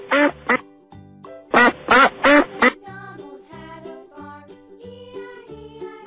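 Duck quacks come in two clusters, one short pair and then a run of four, loud and close, with light tinkly music playing underneath and carrying on alone afterwards.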